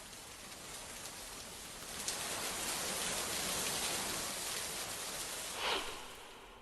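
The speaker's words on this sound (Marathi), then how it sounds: "सोलापूरला मुसळधार पावसानं झोडपून काढलंय" Dense, steady hiss of heavy monsoon rainfall in Solapur, Maharashtra, constant and enveloping, with a brief louder splash near the end.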